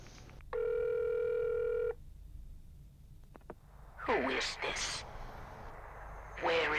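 A telephone in the video game F13 Virtual Cabin gives a steady electronic tone for over a second, followed by a few faint keypad clicks, then someone talks in bursts over a quiet background.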